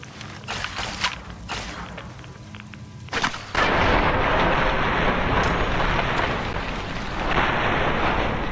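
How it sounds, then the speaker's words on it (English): Weapons fire in the video game Fallout New Vegas: scattered shots and bursts at first, then after a heavy blast a dense, roaring barrage of continuous gunfire and explosions that stays loud to the end. "Firing weapons."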